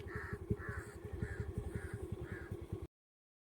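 Crows cawing repeatedly beside a rotting dead animal carcass outdoors, a steady rhythm of loud, close harsh calls with several birds overlapping, no talk.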